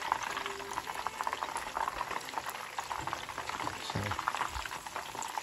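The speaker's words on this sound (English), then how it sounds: "the meat really kind of just cooks pretty fast because the oil is hot" Ground beef tacos fry in hot oil with a steady, dense sizzle and bubbling crackle filling the whole stretch, close and continuous, with a brief word spoken over it.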